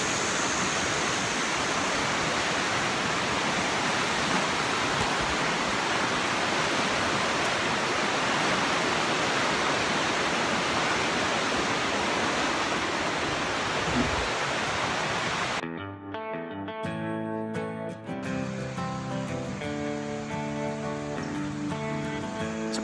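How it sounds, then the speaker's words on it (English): Full, fast-rushing river after heavy rain along an Appalachian Trail path in the Priest Wilderness, a dense, steady roar for about fifteen seconds, then it drops away and is replaced by quieter mixed sound. "You can hear the river in the background."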